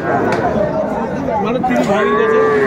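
A bull calf lows loudly at a busy cattle market, drawn-out moos rising over a constant murmur of crowd chatter and nearby talking voices.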